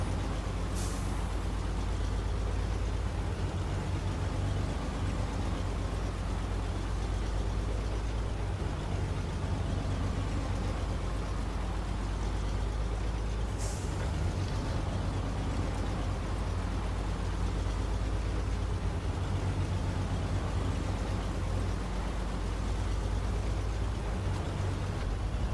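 A heavy truck engine drones steadily while hauling a trailer through rough terrain in SnowRunner, a continuous low rumble with two sharp hissing bursts like air brakes partway through.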